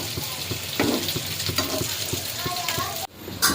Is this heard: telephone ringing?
no